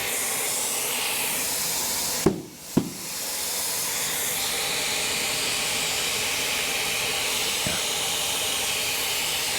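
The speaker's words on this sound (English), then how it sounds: "Air it up." Steady compressed-air hiss fills a new BFG HD Terrain KT tire during mounting, with a brief break where the connector is reseated, two sharp bursts as it comes back on, and the hiss resuming continuously.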